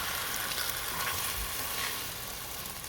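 Beaten eggs with salt and shallots sizzle in hot oil in a wok, a steady close crackling fry with a few soft utensil knocks and no talking.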